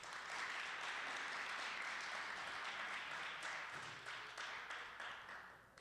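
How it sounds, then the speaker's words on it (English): An audience at a Paterson talent show gives sustained applause, a dense wash of many hands clapping that stays steady and then gradually thins and fades toward the end. "Let's give her a round of applause."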